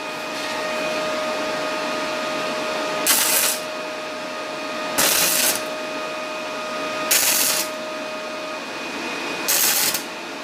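Parkside PMSG200 welder tack welding thin sheet metal with 0.6mm wire, four short crackling bursts of roughly half a second each at a steady interval, standing out above a constant mains-like hum.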